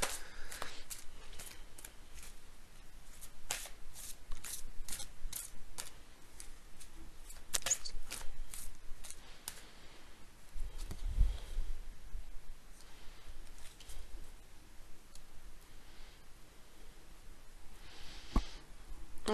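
Angel oracle cards being shuffled by hand, a steady run of soft papery riffles and flicks at close range with scattered sharper snaps, no voice over it.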